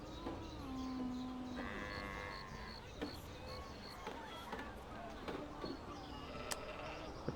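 Sheep bleat in the Anno 1701 strategy game, several short wavering calls repeating over a busy buzzing farm ambience with insect-like drones, fairly faint and steady throughout.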